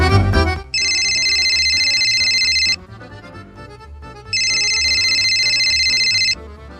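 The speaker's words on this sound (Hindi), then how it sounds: "तेरे फोन पे फोन आ रहा" Mobile phone ringtone playing two long sustained electronic tone bursts, each about two seconds with a pause between them, loud and close over faint background sound.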